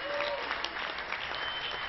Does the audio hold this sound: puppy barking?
no